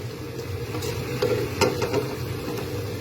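Cooked chicken and masala being stirred together in a karahi for a capsicum chicken dish, a steady scraping and stirring with a low sizzle and a few sharper clinks of the spoon against the pan, close and continuous.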